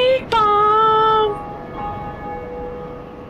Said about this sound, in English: Bell has been rung.